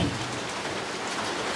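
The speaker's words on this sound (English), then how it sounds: "In spite of the rain" Steady rain falls outdoors where a pot of curry chicken cooks, a dense, even hiss of drops close by, continuous and alone without speech.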